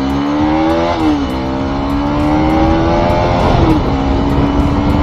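A high-revving motorcycle pulls hard past third gear at very high rpm on a road at night, giving a loud, continuous engine whine that climbs steadily in pitch and briefly dips at each gear change.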